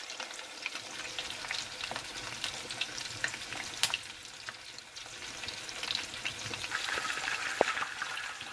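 Whole veal kidney browning in fat in a pan, a steady close sizzle and crackle of frying with scattered sharper pops throughout and no voices.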